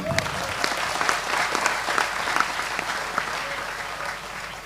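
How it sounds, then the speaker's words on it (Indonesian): Audience applause at an evening religious gathering held at a police headquarters in Malang, steady dense clapping from a large crowd sustained throughout, with a faint voice briefly audible underneath. "Tepuk tangan sekali lagi untuk Sudrun."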